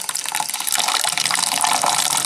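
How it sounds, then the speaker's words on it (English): Steady hiss of water running from a tap into a small cup for soaking ranunculus corms, bright and continuous, close by with no voices. "So I'm getting this filled up with water here."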